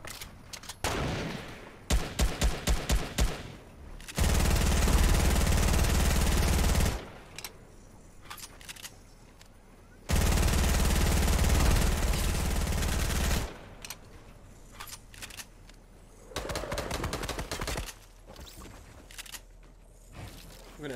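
Rapid beam rifle bursts in Fortnite played on Nintendo Switch, alternating with two long sustained roaring stretches of fire, loud and close, with brief gaps and scattered shots between.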